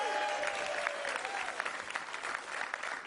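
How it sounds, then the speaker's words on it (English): An audience at a Bronx affordable housing press conference claps steadily, a soft, even wash of applause from a moderately distant crowd. "Let's give her a round of applause."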